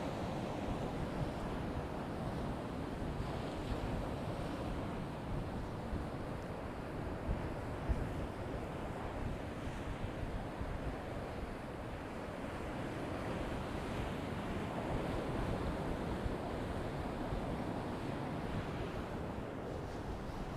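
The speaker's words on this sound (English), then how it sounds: "I don't know how much of the wind and things you're actually able to hear, but it is pretty rowdy." Wind buffeting an east coast beach at Easington with waves rolling in, a constant, rough, fairly loud rushing roar of surf and gusts throughout, with no speech.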